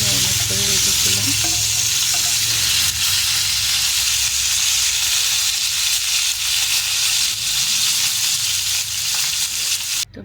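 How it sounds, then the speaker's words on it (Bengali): Marinated chicken pieces fry loudly in a pan, a dense, close, unbroken sizzle and spatter that holds steady throughout, with no voices. "তো প্রথমে আমি চিকেন রোস্টটা বানিয়ে নেওয়ার জন্য চিকেনগুলো ভেজে নেব"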